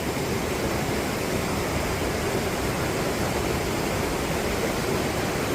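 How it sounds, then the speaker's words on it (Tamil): A waterfall in a Swiss cave setting gives a constant, dense roar of falling water, steady and loud throughout with no pauses. "இப்படி ஒரு அருவியை நான் பார்த்ததில்லை"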